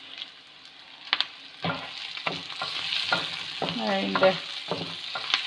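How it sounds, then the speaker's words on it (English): Chopped tomato goes into onions frying in a pan, with a sizzle that swells after the addition and scraping stir strokes. A brief word is spoken. "I'm going to add some chopped tomatoes"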